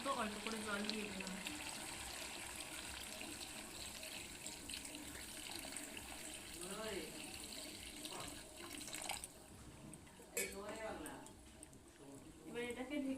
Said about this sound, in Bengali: এবারে আমি এর মধ্যে পরিমাণ মতো অল্প করে জল দিয়ে দিলাম।